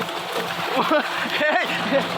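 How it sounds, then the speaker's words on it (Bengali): Water splashing and sloshing as people bathe at a bore well, with short irregular splashes under loud talking and shouting. "এই দাঁড়া দাঁড়া, পানি ছিটাইছি।"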